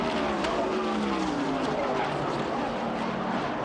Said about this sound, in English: Bobby Allison with a horrible crash here on the front stretch.